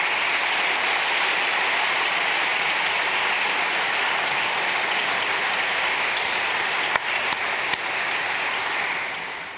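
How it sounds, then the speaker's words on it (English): An audience at a graduation ceremony gives a sustained round of applause for a sponsor, dense and even, with a few sharper claps near the end as it begins to fade. "Give him a round of applause."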